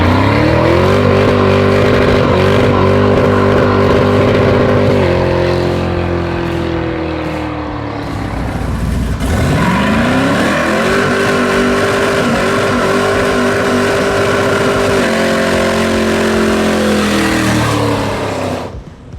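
A V8-swapped Jeep Wrangler roars loudly through a burnout, the engine holding high revs, dipping briefly, then climbing back and sustaining a harsh, close, continuous howl with no talk over it.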